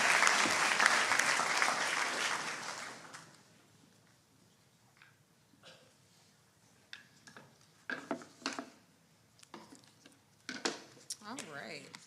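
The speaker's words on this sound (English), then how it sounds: "Let's give them a round of applause" Applause at a high-school awards ceremony: a crowd claps steadily for about three seconds and fades out, leaving a quiet room with scattered knocks and clinks and some speech.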